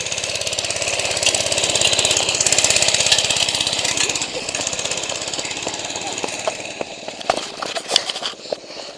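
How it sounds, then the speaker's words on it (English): Dirt bike engine running, a rapid, rough, pulsing mechanical chatter that stays loud for several seconds and then fades into scattered clicks and knocks. "Back to dirt bike."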